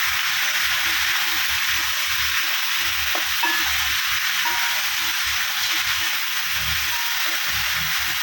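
Onions with salt sizzling and frying in a pan for beef biryani, a loud continuous hiss broken by repeated soft scraping as they are stirred, close and alone without talk.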